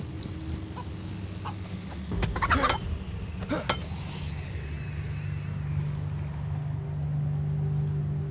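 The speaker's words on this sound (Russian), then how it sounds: "Петушка слышу!" Rooster in the DayZ survival video game clucking and crowing in short bursts amid game ambience, with a few sharp clattering knocks in the middle.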